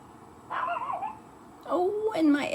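Outside, a protective dog lets out two drawn-out whining barks, the second louder and more pitched, sounding moderately close with a steady low background hiss between the cries.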